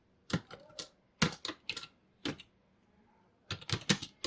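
Typing on a computer keyboard, with close, crisp key clicks in short uneven bursts separated by brief pauses and a quick flurry at the end.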